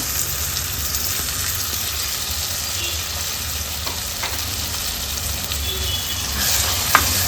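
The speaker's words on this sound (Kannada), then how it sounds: "ತುಪ್ಪದಲ್ಲಿ ಒಂದು ನಿಮಿಷ ಫ್ರೈ ಮಾಡ್ಕೊಳ್ಳೋಣ" Betel leaves and tomato paste frying in ghee for a rasam, a continuous close sizzle with occasional stirring scrapes and a brief clink near the end.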